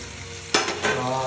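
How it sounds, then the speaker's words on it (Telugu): Onions hitting a hot pan with a sudden burst of sizzling partway through, then a steady frying crackle with some stirring, close and moderately loud with no voices. "ఇందులోనే మనం కట్ చేసి పెట్టుకున్న కొంచెం ఆనియన్ ఫ్రై చేద్దాం"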